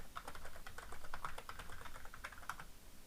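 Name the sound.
typing T-SQL commands on a computer keyboard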